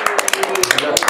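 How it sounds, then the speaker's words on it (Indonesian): Rapid, close hand clapping on an Indonesian talk show, sharp irregular claps over about a second, mixed with people talking. "tepuk tangan loh"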